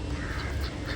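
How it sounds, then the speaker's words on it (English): A duck quacking at a lakeside where swans rest, a few short nasal quacks close by over a steady outdoor background, no voices. "I think this is a duck."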